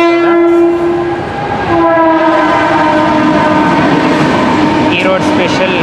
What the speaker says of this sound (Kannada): ಇಲ್ಲಿ 4:48 ಡಬಲ್ ಡೆಕರ್ ಇಲ್ಲಿಗೆ ಬರುತ್ತೆ, 4:50 ಇಲ್ಲಿಂದ ಹೊರಡುತ್ತೆ.